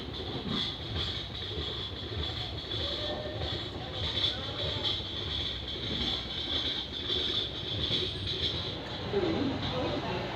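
Koyna Express passenger train running after leaving Talegaon, a steady rolling rumble with faint rhythmic clatter and a persistent high whine, heard from inside the train with a voice speaking over it.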